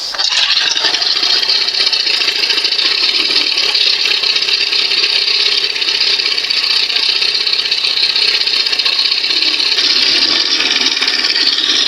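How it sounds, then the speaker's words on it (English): A 1997 Johnson 115 OceanRunner outboard engine, under repair for a fault, runs loud and close at a raised idle for about twelve seconds, a constant, unbroken roar with no pauses. "When I turn the screwdriver, it's pushing on the linkage. That's why it's revving a little bit."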